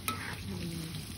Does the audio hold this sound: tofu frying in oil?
yes